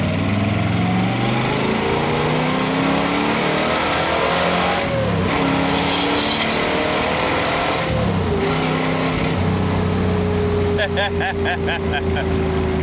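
A 1969 Chevrolet Corvette ZL1 engine accelerates hard and close, its pitch climbing steeply and then dropping at each early gear shift before climbing again.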